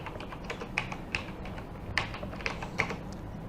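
Typing on a computer keyboard while entering a heading in an Excel spreadsheet, with soft irregular key taps that have a few louder strikes, close up and without speech.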